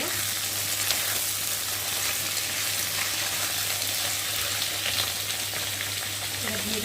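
Cut potatoes fry in oil in a pan. A continuous close sizzle runs throughout, with faint stirring mixed in.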